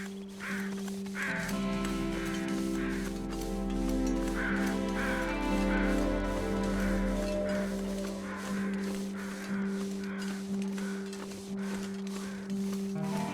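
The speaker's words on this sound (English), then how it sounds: "I still hear bear crows. That tells me the bear is still up." Crows caw repeatedly above a bear in a snowy wilderness in The Long Dark video game, with steady ambient music or wind sounds beneath the calls.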